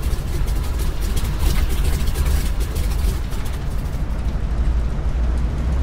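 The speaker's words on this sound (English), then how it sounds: "That beautiful chug chug chug sound of this engine." An A2A T-6 Texan aircraft engine in a flight simulator game, a loud, close, rough radial chugging with a steady pulsing rhythm, running continuously without pause.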